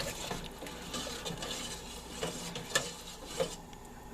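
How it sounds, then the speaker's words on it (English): A pot of drained rice mixture for Puerto Rican arroz con pollo gets stirred, giving soft, uneven scraping and wet shuffling with a few light clinks against the pot, quiet and close. "I'm going to stir that."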